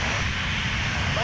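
Sun Country jet airliner taxiing at Minneapolis–St. Paul airport, a steady broadband engine roar and whine filling the clip at close range, with talk faintly underneath.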